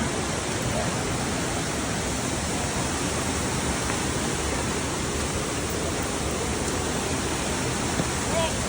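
Alitap Falls in Pagbilao, Quezon sends a strong current crashing in a dense, unbroken roar of water that fills the scene evenly from start to end, with no other sounds standing out.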